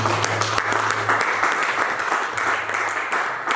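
A church congregation claps in acclaim of Jesus, with dense, steady applause that continues throughout.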